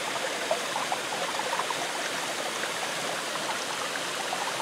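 A creek runs steadily during a winter hike, giving an even, continuous rush of flowing water that is fairly loud and close, with no voices.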